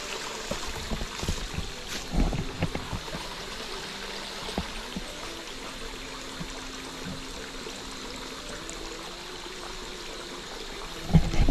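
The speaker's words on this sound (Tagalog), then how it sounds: "Lakas na pala ng tubig dito oh." Strong stream flowing steadily outdoors, a continuous broadband rush of water with occasional trickles and faint knocks, a louder bump right at the end, with no talking.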